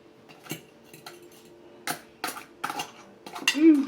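A fork clinking against a dish and bowl while eating, with several sharp, scattered metallic taps close up, followed by a brief vocal sound at the end.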